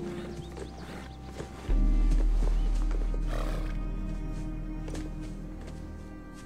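A horse, likely on a period drama set, snorts and shifts nearby. A deep, sudden low swell of sound follows and slowly fades, with quiet rustling movement throughout and no clear speech.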